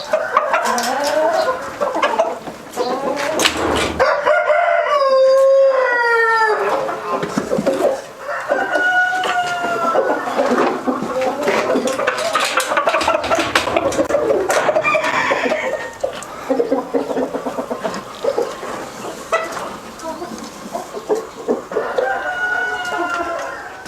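Hens clucking and a rooster crowing among young laying pullets at a farm guesthouse, a busy, close flock with repeated loud crows rising over steady clucks throughout.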